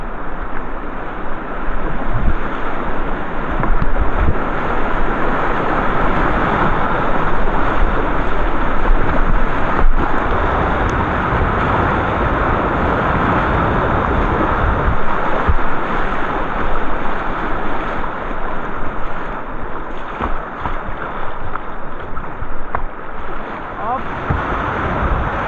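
River current rushing around a canoe on the Salza in Austria, a steady loud wash of flowing water with gusty wind noise, continuous and close throughout.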